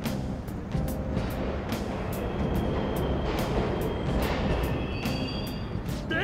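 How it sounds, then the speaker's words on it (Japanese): A subway train runs through a dark underground station in the video game Persona 5 Royal, a steady loud rumble of wheels and track with repeated rhythmic clicks and faint high squeals on top. "ここは地下鉄だぞ、電車走ってんのは当たり前だろ。"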